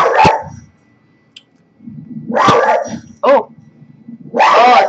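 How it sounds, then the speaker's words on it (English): A dog barks in a few sharp bursts separated by short pauses, fairly close and loud, with a quick yip in between. "My dog is barking."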